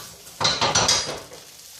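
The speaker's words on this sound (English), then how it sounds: "I'd probably stick them in a frying pan for a bit" Potato gnocchi made from potato chips and ramen noodles hit hot oil in a frying pan, giving a short burst of sizzling and stirring with a few pan clinks, close and fairly loud.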